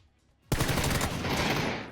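A sudden burst of rapid automatic gunfire erupts in a video game after a brief quiet moment, a dense, loud rattling volley that keeps going through to the end.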